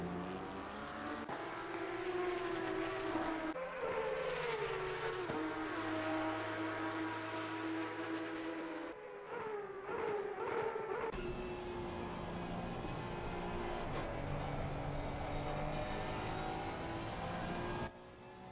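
Porsche GT3 Cup race cars lap Monza in a racing video game, their engines whining and shifting through gears with rising and falling pitch, loud and continuous with brief gear-change breaks.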